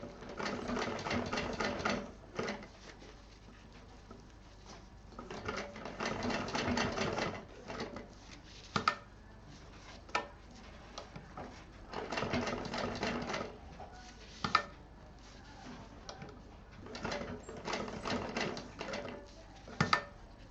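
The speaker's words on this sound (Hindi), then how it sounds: "थोड़ा थोड़ा गोलाई लेकर के सिलते रहें।" A sewing machine stitches a zipper strip onto a fabric tiffin case in repeated bursts of rapid mechanical whirring, stopping and starting between runs, with a few sharp clicks in the pauses, close and clear.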